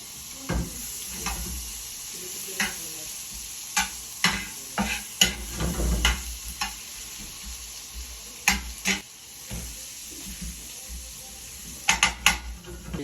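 Garlic sautés in a pan, soft sizzling under repeated sharp clinks and scrapes of a utensil stirring against the metal at an irregular pace.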